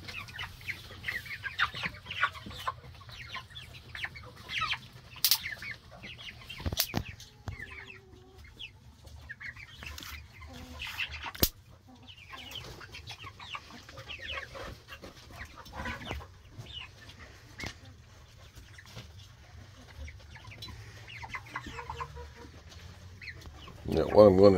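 Chickens raised as meat birds and ducks in a farm pen, soft scattered clucking and low chatter throughout at moderate distance, faint and continuous with occasional louder calls, no talking.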